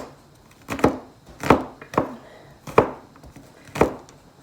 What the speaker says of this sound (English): Now I'm just going to give this a good chop.